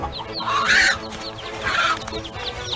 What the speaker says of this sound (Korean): 암탉 보세요